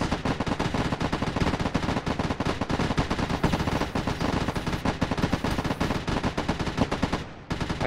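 Sustained rapid automatic gunfire in Arma 3, loud dense bursts running almost without pause, briefly dipping near the end before resuming.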